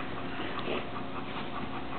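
A dog pants steadily and close up, with faint whimpering mixed into the continuous breathy rhythm.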